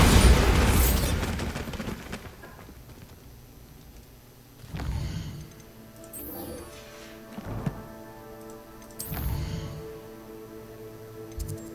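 Bombarda blasting spell cast in Hogwarts Legacy: a loud burst at the start, followed by three more muffled booms at roughly even intervals, each a short low thump with a crackling tail, set against quiet game ambience.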